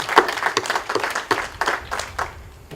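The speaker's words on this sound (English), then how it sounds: "Can we give him a round of applause?" Clapping from a small gathering at a park dedication for a city project manager, a short burst of uneven claps that fades out after a few seconds.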